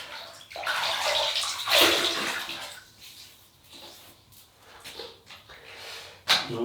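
Running water splashing as a face is wetted before shaving, close irregular surges of splashing and sloshing that rise and fade, with a sharp splash near the end.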